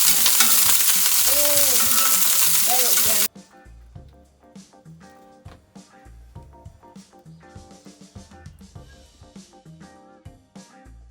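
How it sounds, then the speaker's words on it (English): Meatballs frying in oil in a pan give a loud, steady sizzle for about three seconds. After that comes quieter crackling with intermittent stirring or scraping clicks. "So that's the meatballs into the pan. We're just going to let them sizzle away for a little bit."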